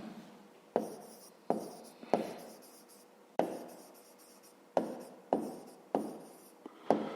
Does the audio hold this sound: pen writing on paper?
yes